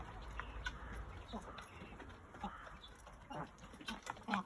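Soft, sporadic clucking and murmuring comes from village hens and blue-egg chickens let loose to roam a garden, heard faintly at a distance over a quiet outdoor hush.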